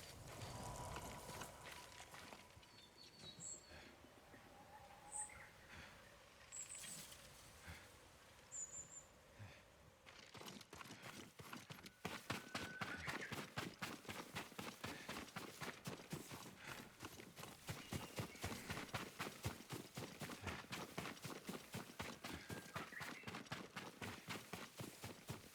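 Horse hoofbeats in Ghost of Tsushima: a steady run of close, rhythmic clip-clop footfalls that grows louder and denser partway through, over a faint background of ambient game sound.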